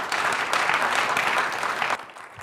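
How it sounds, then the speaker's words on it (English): Audience applause welcoming a speaker to the podium at a university global affairs talk, with a full, steady wash of clapping that stops abruptly near the end, leaving quiet room tone. "Please, a welcome round of applause for Dr."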